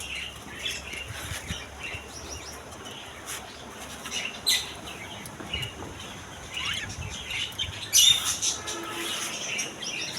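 Budgerigars and Java sparrows in a pet bird shop chirp and tweet in scattered bursts over a busy background hum, with a few louder squawks and wing flutters.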